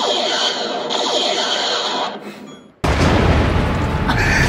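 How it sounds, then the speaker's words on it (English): A sci-fi photon torpedo firing effect played through an Alexa smart speaker in a cabaret setting, a loud sustained whooshing blast that cuts off and then bursts again into a dense rumbling roar. "Alexa, fire photon torpedoes. Photon torpedoes armed."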